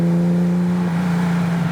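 A Ferrari Daytona's V12 drones steadily with a deep, even, close-up engine note. The tone shifts slightly partway through, and no one talks.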